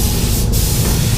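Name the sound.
spray gun spraying clear coat over base coat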